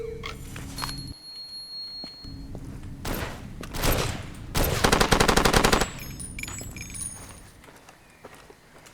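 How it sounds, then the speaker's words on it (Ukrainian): Bursts of rapid gunfire crackle in Far Cry 2, including sniper fire, with a dense volley mid-clip amid scattered shots and chimes, no talking. "А снайпери стріляють."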